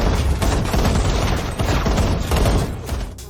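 Battle sounds from an AI-generated war scene: loud, continuous explosions and rapid gunfire, with dense rumbling blasts and bursts running throughout and no speech.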